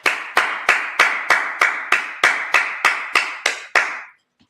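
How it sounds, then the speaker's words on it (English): Hands clap at a Sabbath service, about a dozen sharp, evenly spaced claps in a steady rhythm that stop abruptly, with no voices over them. "Clap it up."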